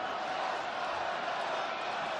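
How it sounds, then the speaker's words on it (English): A stadium crowd roars and murmurs steadily from a distance at a Browns vs Jets NFL game, a dense wash of noise with no distinct voices. "This crowd right now, they're ready to let it loose."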